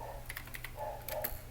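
Quiet clicking of computer keyboard keys, a quick run of light taps at close range over a steady low hum, with no voice.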